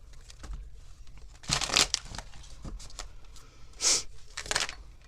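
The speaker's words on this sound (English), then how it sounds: "2 more shuffles." Tarot cards being shuffled close by, bursts of papery riffling and crinkling with quiet breathing in between.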